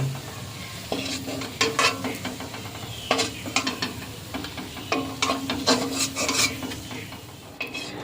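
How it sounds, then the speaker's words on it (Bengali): Dough balls for mango rasmalai deep-frying in hot oil to a reddish colour, with a steady sizzle and repeated scraping and stirring strokes running throughout at close range. "সব বলগুলো কত সুন্দর লাল লাল করে ভেজে নিয়েছি। এবার তুলে নেব।"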